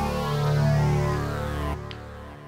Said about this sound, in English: It's called Wet Plus Wet, and it sounds like this.